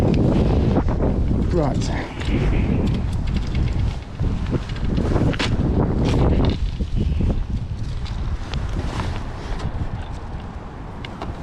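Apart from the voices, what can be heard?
wind blowing at a lakeside fishing spot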